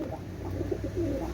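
Pigeons kept in a loft coo in low, soft, rolling calls, close by and repeating over a faint background hum, with no talking.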